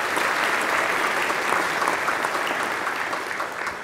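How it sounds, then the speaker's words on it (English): A church congregation breaks into sustained applause, steady dense clapping that fills the space for the whole stretch and fades only slightly near the end, with no voices standing out. "Give her a round of applause."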